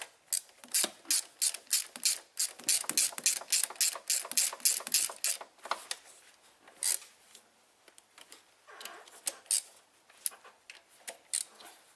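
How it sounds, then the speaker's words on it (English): Ratchet wrench tightening the three top gearbox mounting bolts on a Vauxhall Astra H, heard as fast, close clicking bursts that pause and resume, with quieter, sparser clicks toward the end. "I'm going to tighten the 3 top stubs here."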